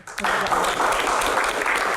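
A studio audience at a televised Q&A discussion bursts into dense, sustained applause, loud and close, holding steady for a couple of seconds.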